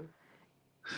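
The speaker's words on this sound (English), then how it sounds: "that's my dog snoring" A dog's raspy, wheezing snore heard once faintly and then louder, close to the microphone.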